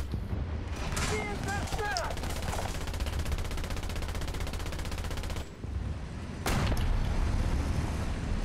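Machine gun fire in War Thunder tank battles, rapid bursts crackling through steady battle noise with a brief lull before a loud resumption, voices talking over it.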